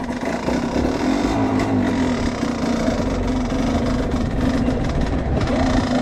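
Motorbike engine after an electric start, running with a steady low idling throb and a persistent hum, close and fairly loud, without speech.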